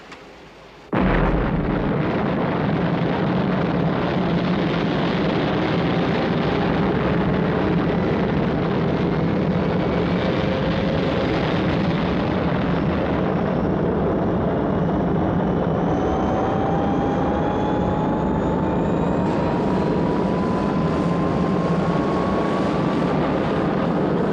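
Rocket blastoff from a Thunderbirds episode: a sudden loud ignition bursts in after a second of quiet, then a sustained roaring rush with a rising whine runs on steadily for over twenty seconds, with no talking.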